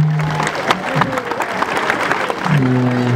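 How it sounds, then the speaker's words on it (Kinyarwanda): A church congregation claps together in a steady wash of applause, with sustained tones and voices sounding underneath, fairly loud throughout. "dukomera amashyi menshi cyane Imana yacu"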